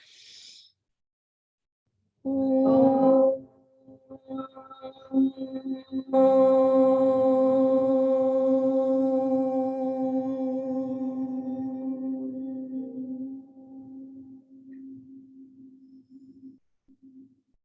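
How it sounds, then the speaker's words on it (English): Yoga class chanting Om together in a quiet room: after a brief intake of breath, a sustained group hum swells and slowly fades over roughly ten seconds. "Open with the sound of Om."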